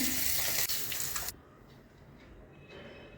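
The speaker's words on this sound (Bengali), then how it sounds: "মাছ ভাজা হয়ে গেছে তুলে নিচ্ছি" Fish frying in a pan of hot oil gives a loud, bright hissing sizzle that cuts off abruptly after about a second, leaving quiet kitchen background.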